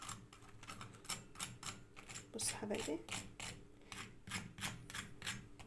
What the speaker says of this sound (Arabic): بصوا بقى هو سخن، اسمعوا كده صوت القرمشه.